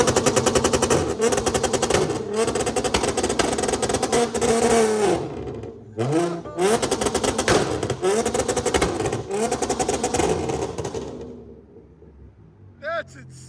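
An Audi S4 3.0L supercharged V6 with down pipes and Magnaflow exhaust two-steps at launch, making a loud, rapid machine-gun crackle of pops and bangs that rises and falls with revs before fading near the end, heard close up.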